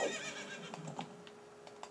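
A horse in the video game Ocarina of Time Master Quest gives a short, quiet neigh at the very start, followed by a few soft clicks and taps.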